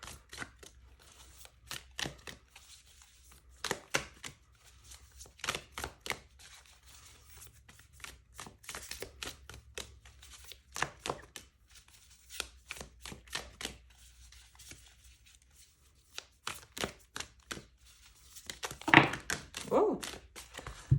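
Archetypes Oracle cards shuffled close up in a quiet room, giving soft riffling thunks in irregular bursts with pauses between them, and a louder, busier flurry near the end.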